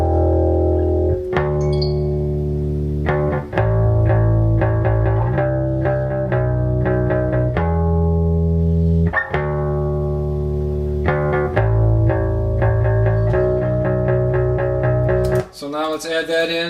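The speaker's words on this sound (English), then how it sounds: "We did a bass guitar track, only one of those, and here's what that sounds like by itself." A solo bass guitar track plays alone, moving through a run of sustained, effect-coloured notes at a steady loud level, ending in a brief burst of noise.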